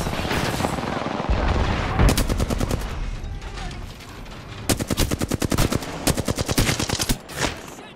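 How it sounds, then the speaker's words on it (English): Rapid automatic gunfire in Apex Legends, loud and close, firing in dense repeated bursts with short gaps and a heavy rumble of battle beneath. "Shooting at me."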